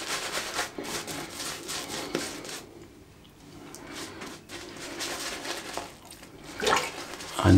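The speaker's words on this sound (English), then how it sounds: "you're just putting the lather on the face before you splay the brush" Shaving brush working lather across a face, a soft continuous wet swishing and brushing close up, rising and falling in strokes with a brief quieter pause midway.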